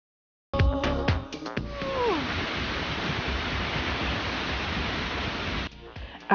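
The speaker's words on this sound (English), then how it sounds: "there are two waterfalls connected by a trail, and one is called Seljlandsfoss, a waterfall that you can walk behind" Seljalandsfoss waterfall in Iceland in winter, a steady roaring wash of falling water heard close and loud after a few brief voices at the start.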